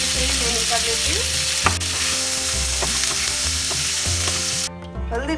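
Pointed gourd (parwal) frying in hot oil: a dense, loud sizzle runs throughout, broken by a few sharp clinks and stirs and a low recurring bubbling, with no talking.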